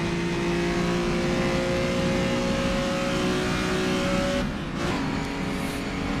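Engines of 1955 racing cars drone on a track in a racing video game, a sustained steady roar of several cars together with a brief dip in pitch near the end, no talk.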